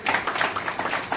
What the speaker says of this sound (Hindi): एक बार तालियों से अभिनंदन करते हैं हम लोग